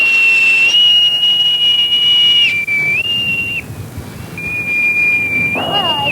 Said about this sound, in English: this is a boatswain's whistle. They use them on ships in the Royal Navy.